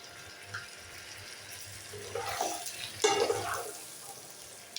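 Chunks of elephant foot yam are stirred with spices in a frying pan, a faint background hiss broken by a couple of short scraping, sizzling bursts partway through.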